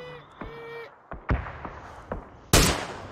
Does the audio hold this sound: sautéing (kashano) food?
no